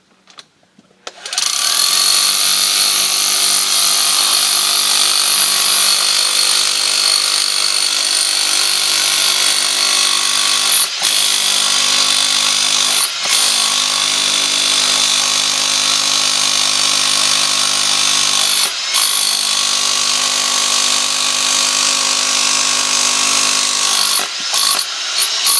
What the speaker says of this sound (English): you always want to make sure it's on hammer drill